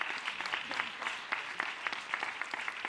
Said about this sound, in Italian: Facciamo anche un applauso a tutti i tecnici che nel frattempo, volontari che nel frattempo smontano